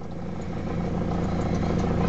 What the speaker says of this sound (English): a noisy tick over, possibly a belt, possibly a tensioner, if you can hear that.